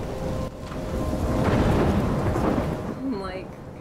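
A thunderstorm with rain in the video game Life Is Strange brings a deep, rolling rumble that swells and fades over steady rain hiss, with a brief higher tonal sound near the end.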